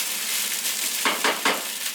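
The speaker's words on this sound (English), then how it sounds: "you can hear the rice is crackling" Kimchi fried rice frying in a hot pan, a steady close sizzle and crackle with a couple of brief louder stirring scrapes, no voices.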